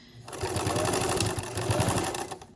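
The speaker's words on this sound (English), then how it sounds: "Here I will back stitch at the front and the back." A sewing machine back stitches through a fabric face mask, a steady mechanical whir with rapid needle rhythm, close and fairly loud, running alone for about two seconds.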